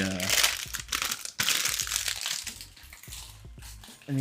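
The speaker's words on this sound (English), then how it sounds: "The sound of crinkling bags is everyone's favorite sound." Plastic bags from an HG Iron-Blooded Orphans Kimaris Vidar Gunpla model kit crinkle loudly and up close in long, continuous rustling bursts, with a voice heard briefly at the start and end.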